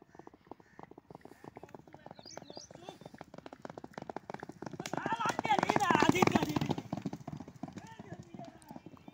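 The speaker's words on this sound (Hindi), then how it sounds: "मजली की तुम पैरों की आवाज़ सुननी है" A mare's hooves walk in a steady rhythmic clop, close by, while someone talks over them and the noise swells midway.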